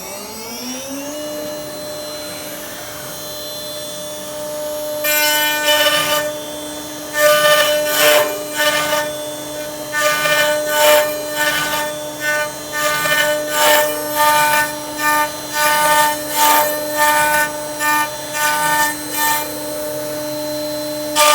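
Router spins up with a rising whine, then its bit cuts a wooden tenon in a series of loud, repeated rasping bursts over the steady motor hum, no one speaking.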